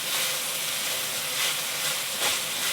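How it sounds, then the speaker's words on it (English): Shrimp paste sizzles in a frying pan, a steady bright hiss with slight swells, close and continuous, with no voices. "if I'm frying it up in the frying pan anyways, it's going to be sufficiently fried up"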